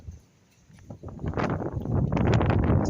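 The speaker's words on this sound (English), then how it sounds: "It's a very windy night." Wind gusts hard across the microphone on a windy night at the Blackpool illuminations, a rumbling rush that builds and holds loud after a quieter start.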